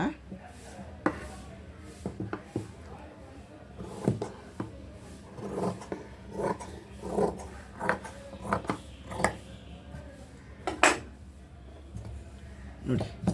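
Old bedsheet cloth is cut into a neat square. Repeated close snips and soft thuds come in an irregular rhythm while a person talks over them.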